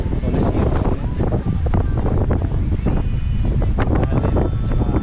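Strong wind gusting on the Coliseum Mountain trail, a steady loud buffeting roar across the microphone throughout, with a voice talking underneath.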